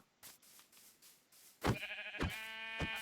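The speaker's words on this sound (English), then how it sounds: "Ooh, first sheep." Sheep bleating in Minecraft, a few clear blocky bleats rising after a quieter stretch of soft footsteps, close and alone with no talk.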